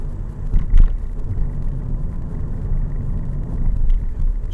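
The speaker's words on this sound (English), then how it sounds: "And all I need to do now is just keep driving along this road." A car drives steadily along a road in Glasgow, its low engine rumble and road noise constant and close, with no talking.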